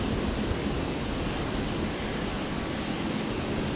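A plane backtracking on the runway at Brisbane airport, a steady distant engine roar that holds level and broad throughout, with no voices.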